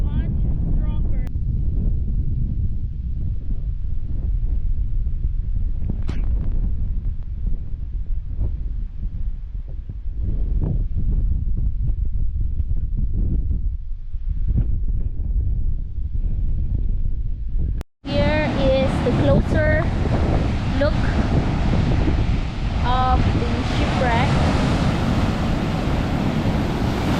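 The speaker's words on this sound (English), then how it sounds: "the waves are just so strong here" Heavy wind buffets the microphone in a constant low roar over strong crashing surf near a shipwreck on Klein Curaçao, then cuts abruptly to a different windy scene with a voice talking.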